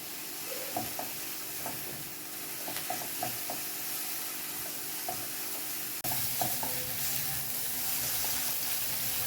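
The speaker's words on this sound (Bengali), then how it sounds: "পেঁয়াজটা লাল লাল করে ভাজা হয়ে গেছে" Onions frying in a pan with green chilli added for a Bengali fish curry give a steady moderate sizzle, with scattered utensil taps and stirring scrapes and a sudden louder surge partway through, no talking.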